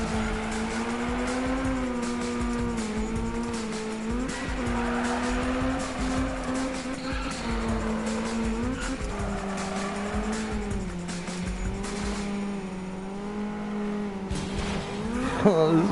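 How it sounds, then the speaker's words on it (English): Car tires squealing in long, wavering tones while drifting in a racing video game, with engine revving underneath, loud and continuous throughout. "This car will not drift."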